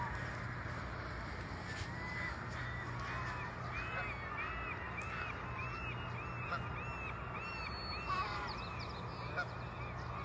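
Geese honk in a repeated series from a short distance, with goslings around, over a steady outdoor background hum and a faint voice now and then.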